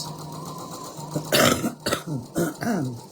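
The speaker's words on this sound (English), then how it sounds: "Still got my cough, just won't go away." Several rough, bursting coughs from a lingering cough, close to the mic, spaced across a few seconds with short pauses between them.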